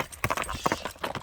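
Hooves of a horse being sold clip-clop in a quick, uneven rhythm of sharp strikes, moderately close, with no talk over them.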